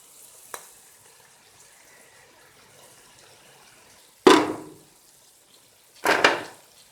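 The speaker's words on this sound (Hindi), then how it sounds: "एक कप पानी डाल के सब्जियों को गलने के लिए रखेंगे।" Water splashes twice into a hot cooking pot of vegetables with whole black pepper and cumin, each pour bursting into a loud hiss and sizzle that quickly fades. No one speaks.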